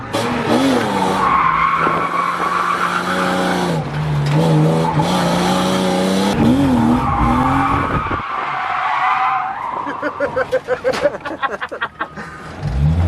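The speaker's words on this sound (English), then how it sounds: "That was a hard spin out." A car with a welded differential spins out while drifting at a drift night, its engine droning loud and steady with long tire skids, then breaking into choppy, stuttering bursts of squeal and revs as it comes around.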